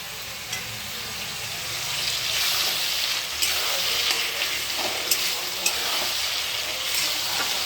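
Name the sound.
onions frying in a wok for mutton curry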